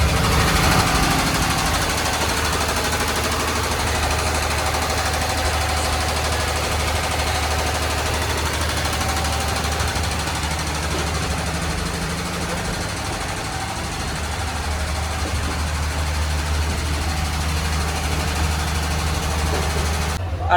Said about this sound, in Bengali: এটা হচ্ছে জেনারেটর বগি